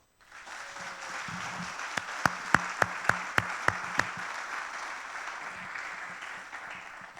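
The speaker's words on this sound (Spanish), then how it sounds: "Dale un aplauso." Church congregation applauding during a Spanish-language sermon, a sustained wash of clapping rising quickly, with a run of loud rhythmic claps in the middle before it tapers off, no speech over it.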